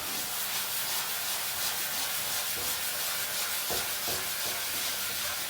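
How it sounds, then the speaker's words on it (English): Fine wire wool rubbed over car primer on a Mercedes SLK R170 bodywork panel, a steady close hiss of scrubbing strokes with no talk. "using fine wire wool to get the imperfections out of primer"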